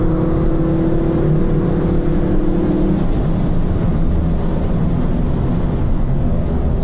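A Ford Focus RS500 driven fast makes a loud, steady engine roar from inside the car, with a tonal whine that holds and then drops away as the drone continues.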